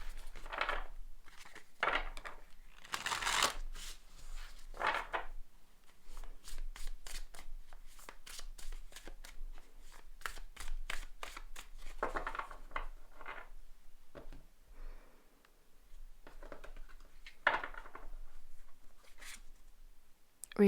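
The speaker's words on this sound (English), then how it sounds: "Then I'll shuffle them in my hand and I'll split the deck" A deck of cards is shuffled by hand in repeated bursts: crisp riffling flutters and rapid papery taps come close and clear, separated by quiet pauses, with faint handling noises between.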